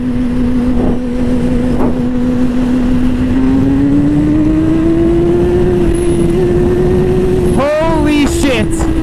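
A Honda CBR 954RR motorcycle accelerates hard, its engine tone rising steadily in a loud continuous drone with wind rush, then a rider's voice breaks in briefly near the end.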